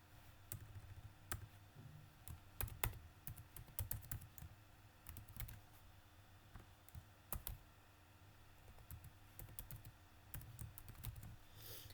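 A computer keyboard being used to type a password during a PostgreSQL installation, giving quiet, irregular clusters of key clicks throughout, heard alone without talk.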